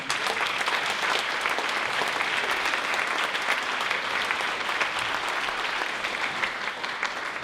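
Audience applause at a school spring band concert, a strong, sustained clatter of many hands clapping evenly throughout, close and full with no pause.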